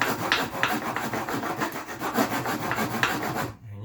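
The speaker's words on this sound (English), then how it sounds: "I'm just gonna chisel that out." A chisel works out a corner of a soft wooden box: close, rhythmic rasping and scraping strokes repeating quickly and evenly, then ending abruptly.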